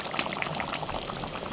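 Chicken simmers in a covered pot for chicken makhani, a close, steady bubbling and sputtering with small pops scattered evenly through a continuous hiss.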